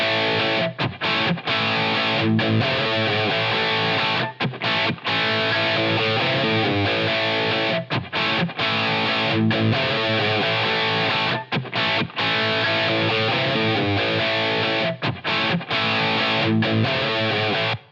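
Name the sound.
guitar through Line 6 Helix LA Studio Compressor effect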